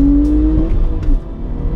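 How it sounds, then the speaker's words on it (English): A 490 bhp Audi B5 RS4 estate accelerates hard in second gear, its engine a loud close roar climbing in pitch with a sustained turbo whine, no talk. "So guys, a little second gear pull for us."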